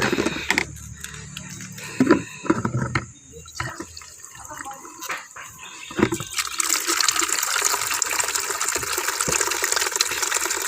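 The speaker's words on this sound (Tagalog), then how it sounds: "Gasan sa nato ang balde. Para limpyo kay gina." Water splashing and pouring while a bucket is rinsed, with uneven sloshing and knocks that give way to a steady gush, fairly loud and close.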